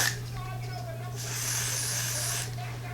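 Short bursts of Got2B Glued hairspray misted onto a wig's hairline, with a brief hiss early on and a louder, steadier spray in the middle of the clip, heard close up with a faint voice beneath.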